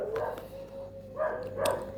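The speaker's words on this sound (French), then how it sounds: "à l'extérieur, les chiens, ils hurlent à la lune" Dogs outside bark and howl faintly in the distance, a few short bursts over a low steady hum in a quiet room.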